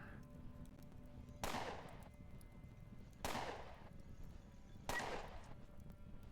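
Three gunshots in the game Underrail, evenly spaced sharp cracks with short decaying tails over a quiet ambient hum, fairly faint overall.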